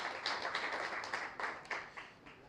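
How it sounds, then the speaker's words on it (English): A small outdoor crowd at a county Farm Bureau picnic claps in appreciation, a scattered, fairly faint patter of hands that tapers off near the end. "if we could give her a round of applause, I'd really appreciate it"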